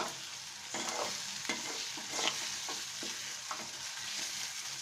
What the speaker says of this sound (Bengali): নেড়ে নেব আমরা কিছুক্ষণ কষিয়ে নেব মশলাটাকে